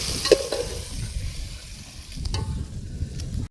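Gravy for a paneer dish bubbles and sizzles in a pan over a campsite fire, a soft, steady frying hiss with a brief metallic clink near the start and no talk.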